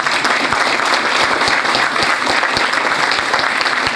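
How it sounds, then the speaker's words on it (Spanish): A crowd claps steadily and loudly at a memorial ceremony, a dense wash of applause with a few sharp thuds underneath. "un fuerte aplauso para ellos"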